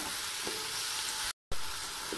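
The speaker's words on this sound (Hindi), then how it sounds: "अभी इन्हें थोड़ी देर फ्राई करेंगे" Okra frying in a pan for masala bhindi, a continuous soft hiss of hot oil with a couple of faint stirring taps and a brief cut to silence midway.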